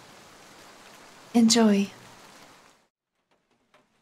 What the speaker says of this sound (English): Little bit of rain, all right.